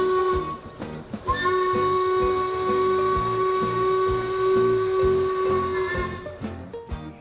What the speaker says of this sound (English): Ah, the sound of the whistle.